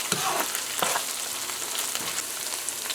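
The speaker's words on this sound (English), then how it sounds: "you're just going to fry this up for a little bit more" Pork frying with tomato paste in a pot, a steady close sizzle with a few light scrapes of a stirring spoon, no talking.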